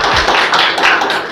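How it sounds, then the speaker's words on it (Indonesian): A classroom of students applauds, a short loud burst of dense, close hand clapping with no voices over it. "Beri tepuk tangan lagi"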